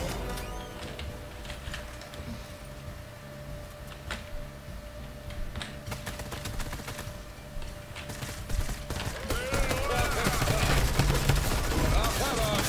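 Rapid bursts of Midas drum gun fire in a Fortnite match crackle in quick runs over game noise, growing denser and louder toward the end, with a voice talking over the action.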